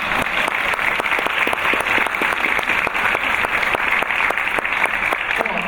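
A theater audience at a literary talk and poetry reading applauds steadily, with dense, loud, continuous clapping that fills the whole stretch. No voice rises above it.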